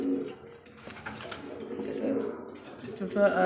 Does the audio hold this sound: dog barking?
no